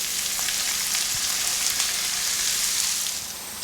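Vegetables, including onions, fry in butter and bacon fat over low heat with a continuous close crackling sizzle and a faint clink or two of a utensil, easing slightly toward the end.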